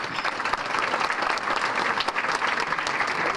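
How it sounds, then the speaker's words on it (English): A crowd at the Lorain Sports Hall of Fame enshrinement banquet applauds in a dense, steady wash of clapping that holds at an even level throughout, with no voices rising above it. "They absolutely give them a round of applause."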